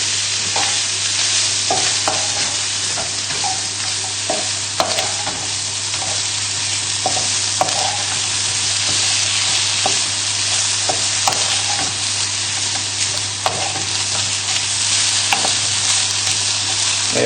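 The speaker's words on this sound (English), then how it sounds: "give everything a good stir so that the mushrooms get nicely coated with the oil" Mushrooms in oil sizzle steadily in a frying pan while a utensil stirs them, with scattered scraping clicks over a constant close frying hiss and a low steady hum.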